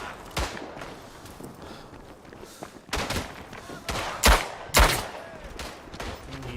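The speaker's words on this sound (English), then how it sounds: "Who is he shooting at?" Gunfire in the WWI shooter Tannenberg, scattered rifle shots cracking at irregular intervals, some distant and some sharp and near, over low background rumble and movement.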